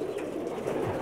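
Pakistani high flyer pigeons cooing softly and continuously, a close, low murmuring coo with no talk over it.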